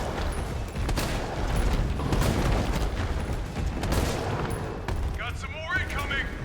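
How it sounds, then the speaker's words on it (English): Explosive rounds blast repeatedly at a boss in Resident Evil 3 Remake, a dense run of loud booming gunfire filling the scene, ending with a few short chirping game effects. "And then we hit him with 2 explosive rounds"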